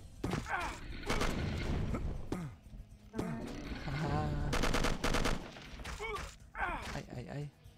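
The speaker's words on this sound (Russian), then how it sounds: "Я так ничего не вижу, кто мне стреляет." Gunfire rattles through a shooter in the video game Will Rock, with rapid bursts and single shots mixed among in-game effects and creature cries, moderately loud, while a player talks over parts of it.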